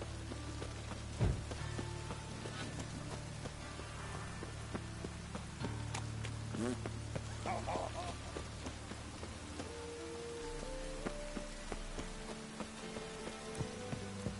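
Steady rain patters across the scene in the video game Witcher 3: Wild Hunt, with a low rumble beneath and a few scattered thuds and tones over the downpour.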